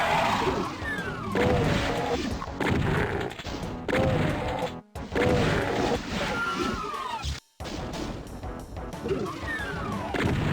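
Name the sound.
shotgun firing in the video game Doom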